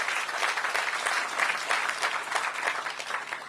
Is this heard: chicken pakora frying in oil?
no